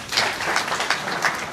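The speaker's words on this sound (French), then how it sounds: "Et je voudrais qu'on applaudisse le Sili." Audience applause at a political gathering with a minister, honouring the national football team, Syli national: dense, steady clapping from a crowd that stays loud and even for the whole short stretch, with no talk over it.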